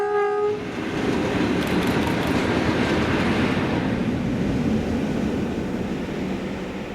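A West Coast Railway train hauled by diesel locomotive 47813 rolls past steadily at Cumbernauld, a loud continuous rumble and rattle of wagons after a brief horn note at the start.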